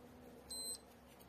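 A digital cooking thermometer probe for hot-smoking mackerel gives a single short, high beep after its battery goes in, faint against a low background hum.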